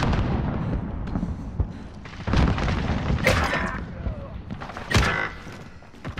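Grenade blast in a Search and Destroy round of a shooter game, several heavy booming hits over a few seconds amid gunfire and game noise, with voices partly under it.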